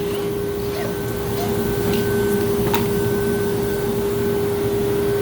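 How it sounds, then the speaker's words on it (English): A vacuum table on a banner heat welder runs as a steady, loud mechanical drone with a constant hum, with faint clicks and taps over it while vinyl banner material is trimmed with a razor knife. "Razor knife, vacuum table's on."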